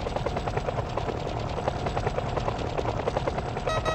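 Helicopter in an early-1990s arcade-style video game, its rotor chopping in a steady rapid rhythm under a busy synthesized electronic backdrop, loud and continuous throughout with a brief tonal electronic beep near the end.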